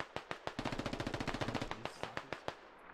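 Rapid automatic gunfire from a tactical military shooter game, a dense burst of dozens of sharp shots in quick rhythm, loud and close, preceded and followed by a few spaced single shots.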